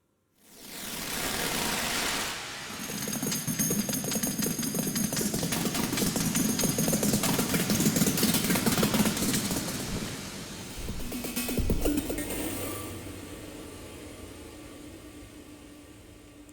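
A resampled Eurorack synth passage with reverb and auto panning plays as a dense, noisy, roaring texture that swells, churns and slowly fades.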